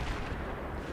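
A tank firing in Battlefield 3, a dense, rumbling low-end blast that fills the whole second without a clear gap, loud and close, with no talk over it.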